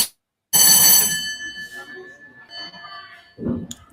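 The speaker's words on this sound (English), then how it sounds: "CMFI, test your buzzer." A quiz buzzer tested at an inter-school competition between CMFI and Swaray Islamic School rings out loudly for about a second, a bright electronic tone that fades into a room of quiet voices and background noise.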